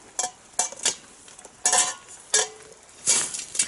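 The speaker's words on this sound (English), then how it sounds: "Get that mushroom in." Mushroom sizzling in olive oil in a skillet over a dying campfire, with bursts of frying crackle and a few metal utensil scrapes and clinks as it is stirred, close and fairly quiet.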